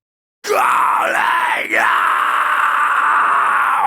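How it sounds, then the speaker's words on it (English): A raw, unprocessed scream vocal for heavy music, tracked in a fairly dead room, comes through as one loud, sustained, harsh, distorted shout with a short dip partway through, sitting close and dry. "Let's hear how the raw scream vocal sounds."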